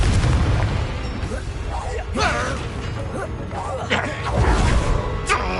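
Explosion spell effects in Hogwarts Legacy, with repeated booming blasts and crackling bursts spread across the clip, loud and close, layered over game background noise.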